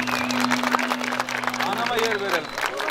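Audience clapping at a traditional Yunus Emre commemoration concert in Gönen, Isparta; steady, dense applause fills the clip, with a sustained low musical tone and a voice faintly heard over it.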